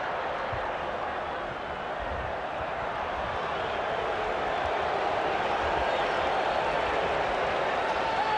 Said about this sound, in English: You get a strange reaction from the crowd, don't you, when the big players get on the ball?